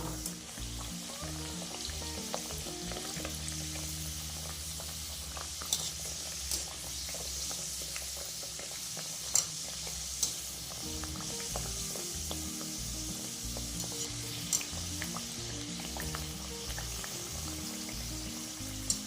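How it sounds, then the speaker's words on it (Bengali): Mung dal kochuri frying in hot oil, a steady dense sizzle and crackle that runs on without a break, with a few faint clinks. "এবার একটা একটা করে আমি ভেজে নেব"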